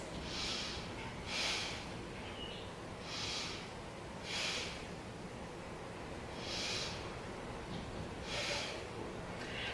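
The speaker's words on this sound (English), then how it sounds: "Let's take 3 breaths." Slow, deliberate breathing during a beginner yoga pose: several soft breaths in and out, evenly spaced and close, over a quiet room hiss with no talking.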